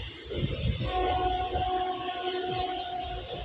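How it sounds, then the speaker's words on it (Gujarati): A passenger train leaves Morbi, heard as a low rumble and clatter of rolling wagons with a sustained horn tone drifting over it, fairly loud and close with no talk. "આપણી ટ્રેન ઓન ટાઈમ નીકળી ગઈ છે મોરબીથી"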